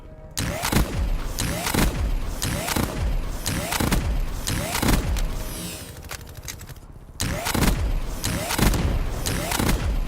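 Robots open fire in Black Ops 3, a burst of repeated booming gunshots and blasts that dips into a brief lull near the middle, then resumes loud and dense.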